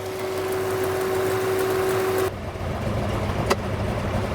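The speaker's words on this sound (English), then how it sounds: "I have an exhaust leak on this side" A racecar engine idles steadily with a raspy, puffing exhaust note from an exhaust leak at a manifold missing its gasket; a whine cuts out partway through and a brief click follows.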